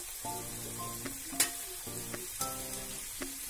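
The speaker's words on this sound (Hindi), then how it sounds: "तेल मीडियम फ्लेम में ऑन कीजिए और इसमें सारे समोसे एक साथ डाल दें।" Samosas deep-frying together in oil over a medium flame make a close, bubbling sizzle, with a few sharp pops and clinks of a utensil striking the pan at intervals.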